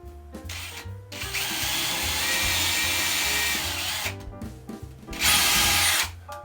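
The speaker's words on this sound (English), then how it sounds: "I'm going to drill a pilot hole up here in the top corner" A power drill drilling a pilot hole in an interior door whirs steadily for a few seconds, pauses briefly, then revs again in a shorter, louder burst, close up with no talking.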